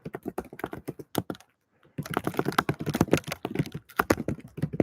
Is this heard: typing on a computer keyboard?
yes